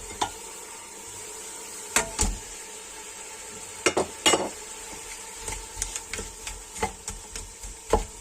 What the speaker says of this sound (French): L'huile commence à chauffer. Nous allons rajouter les crevettes.